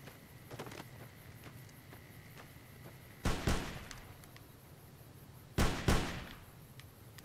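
Gunfire in Fallout New Vegas cracks out in two loud bursts of shots, each a quick double report, with quieter scattered pops and clicks between them.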